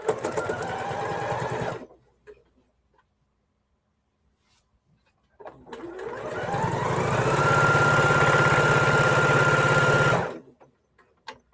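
A sewing machine stitches quilt blocks in two runs, a short whirring burst and then a longer, louder steady hum that speeds up and holds before stopping, with quiet pauses between.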